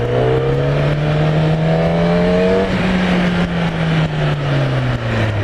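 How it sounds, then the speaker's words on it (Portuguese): A Kawasaki ZX10R superbike is revved hard and close, a loud, sustained engine note that climbs and then dips as the throttle is pumped, with a fainter higher whine fading partway through. "fica bombando o acelerador igual um imbecil"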